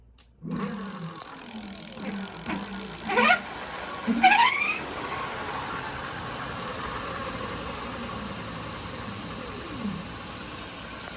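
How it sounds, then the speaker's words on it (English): A Super73 RX electric bike running its factory motor at 72 volts, a high whine that sweeps up and down in pitch with several revving bursts early, then a steady, loud electric hum. "we're testing out the factory motor now, 72 volts"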